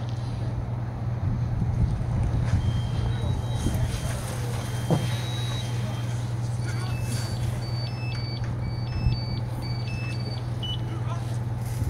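A firefighter's PASS safety alarm beeps in a rapid series of high electronic tones on a fire scene, over steady engine rumble and wind noise, with shorter beeps earlier; people talk nearby.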